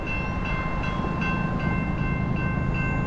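An eastbound CSX freight train of empty garbage cans rolls by steadily and close at 49 mph, a low continuous rumble with faint rhythmic wheel clicks and a high sustained tone over it.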